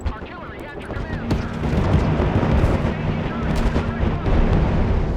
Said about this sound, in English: Artillery at your command